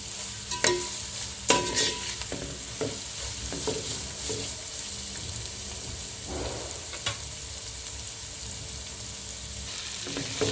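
Noodle masala of ginger, garlic, red chilli powder, coriander powder, garam masala and salt sizzles in a pan, with a steady low fry broken by occasional sharp clinks and scrapes of a spoon stirring, close and alone.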